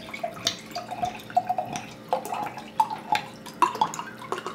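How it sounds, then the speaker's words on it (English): Rum glugs and splashes as it is poured from a bottle into a wine glass in a kitchen, a close, uneven gurgle of liquid pulses with no talking. "We're gonna pour this in a wine glass"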